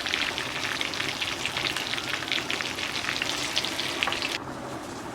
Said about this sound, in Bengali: মাছগুলো আমার ভাজা হয়ে গেছে। এবার একটা প্লেটের মধ্যে তুলে নেব।